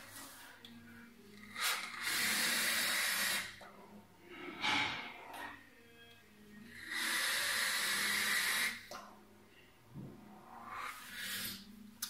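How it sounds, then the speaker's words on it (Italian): Vaping on a Smok TFV12 tank with a 0.11 ohm coil at 120 watts: two long airy hissing draws, each about two seconds, separated by softer breathing and exhales, close to the microphone. "Facciamo una prova di svapo."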